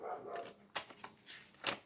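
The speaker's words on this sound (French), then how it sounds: "Elle aboie." A dog barking outdoors at night, a few sharp, fairly faint barks spaced out over a quiet background.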